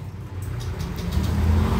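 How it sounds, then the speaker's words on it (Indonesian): A Honda Vario 125 scooter engine idles steadily after starting, a low smooth hum close by that swells slightly toward the end. "Nah ya, mesinnya hidup."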